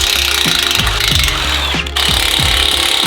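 A hand ratchet works a bolt loose from a differential bracket on a Ford Bronco during a lift install, giving several loud, repeated clicking bursts close up over a steady background hum.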